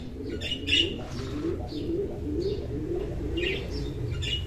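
Fancy pigeons in a breeder's setting in Lahore give soft repeated low coos, steady and fairly close, with a few brief higher chirps scattered over them and no talking.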